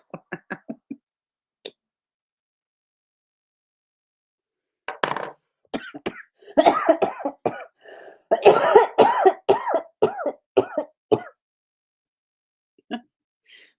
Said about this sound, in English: Sorry, I'm just having a coughing fit now.